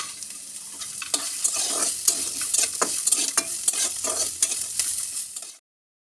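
Garlic cloves and onion frying in a pan, a bright continuous sizzle with scattered spatula scrapes and stirring knocks, close up, ending abruptly in silence after about five and a half seconds.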